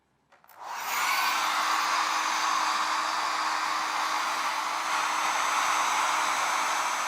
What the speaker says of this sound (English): let's have a look with the hairdryer and add a little bit of heat